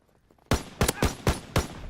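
Gunfire in Call of Duty: WWII, four loud close shots spaced evenly about every third of a second after a brief quiet lead-in, each a sharp broadband crack with a short tail.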